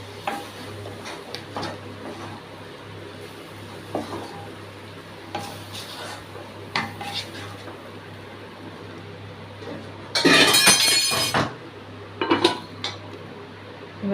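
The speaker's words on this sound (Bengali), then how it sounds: "ভালো করে নেড়ে নিচ্ছি।" A spoon stirs semolina upma in a pan with intermittent scrapes and knocks against the metal, quiet at first, then a louder burst of clattering stirring near the end.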